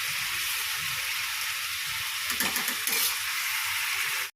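Onion and tomato frying in oil with cumin, bay leaf and whole garam masala, giving a continuous close sizzle with a few brief pops and stirring clatters before it cuts off abruptly.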